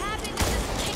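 Turret gunfire in the co-op zombie shooter Back 4 Blood, a dense noisy burst with a low thump, heard briefly amid a busy game mix.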